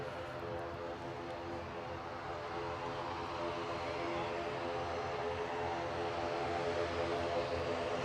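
An Aurigny propeller airliner leaving Manchester Airport for Guernsey drones with a steady tonal propeller hum over a broad engine rumble, holding strong and slightly swelling toward the end, with no talking.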